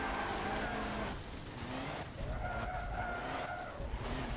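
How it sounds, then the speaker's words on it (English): A truck skids and slides while drifting in Forza Motorsport 7, its tires squealing in long wavering tones over steady engine noise, the screech fading briefly and then returning loudly. "How good is this truck at drifting?"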